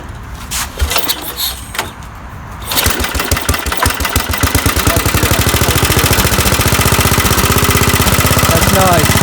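An old 1980s Briggs & Stratton riding mower engine, fitted with a replacement carburetor, starts after a few seconds of quieter handling noise. It then settles into a loud, close, steady chugging idle that runs through to the end.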